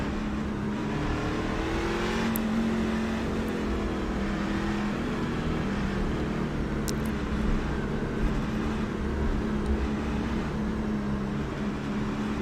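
A race truck's engine drones steadily in an iRacing game, with a continuous mid-pitched motor whine that rises and falls slightly and the hum of other vehicles running under it.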